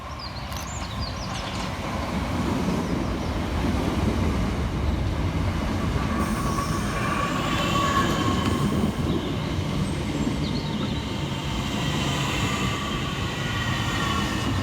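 A Southeastern Class 466 and 465 electric multiple unit rolls into a station on the Hayes line, its loud steady rumble of wheels and motors close by, with faint squeals rising as it slows.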